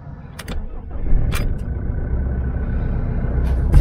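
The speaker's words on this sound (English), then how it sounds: "then I'm going to start the engine" A vehicle engine is started with the key during a DC-DC battery charger installation, a brief cranking burst that settles into a steady, fairly loud idle rumble, with no talking.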